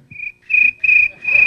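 A person whistles a cricket imitation: a bright, high chirp in four quick pulses, the later ones longer and louder, close and clear with no other sound.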